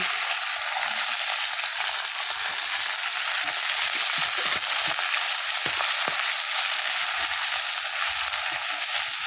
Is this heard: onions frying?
yes